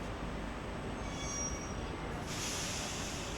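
India's first hydrogen train pulls into platform 3 at Jind junction, a steady rolling rumble of railcars with wheel squeal and a hiss that brightens near the end, no voices.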